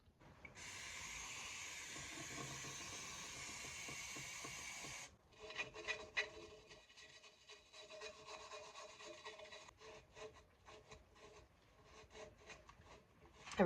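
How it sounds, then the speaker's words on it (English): Wire brush scrubbing a truck's brake backing plate, a dense steady hiss for about five seconds, then broken, uneven rasping strokes and scraping bursts, close and fairly quiet. "I'm going to clean the whole thing with the wire brushes and the brake clean."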